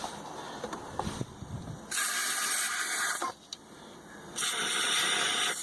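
Two bursts of loud hissing spray into a boat engine's cylinder through the spark plug hole, each lasting a second or more, separated by quieter clicks and handling noises, during winterizing.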